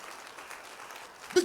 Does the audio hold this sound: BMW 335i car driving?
no